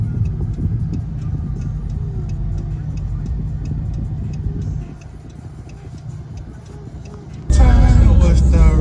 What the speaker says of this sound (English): Look at this traffic,